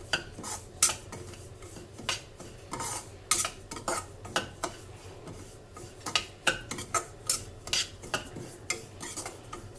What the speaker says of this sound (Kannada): ಇನ್ನು ಸ್ವಲ್ಪ ರವೆನ ಸೇರಿಸ್ಕೊಂಡು ಸೊ ಕಮ್ಮಿ ಉರಿಯಲ್ಲಿ ಫ್ರೈ ಮಾಡಿಕೊಳ್ತಾ ಹೋಗಬೇಕು